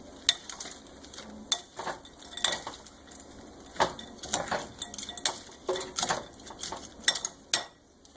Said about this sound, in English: So we mix the onions and the bacon.